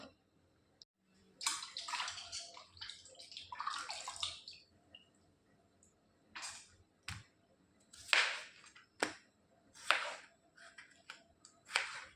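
Vegetables for a kurma, including beans and fresh peas, are rinsed under running water in separate bursts of splashing and trickling, with short quiet gaps and a few sharp knocks in between.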